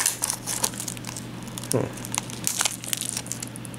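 Plastic wrapping being peeled off an anime DVD, close crinkling and crackling in quick irregular bursts with a brief tearing rip midway, over a faint steady hum.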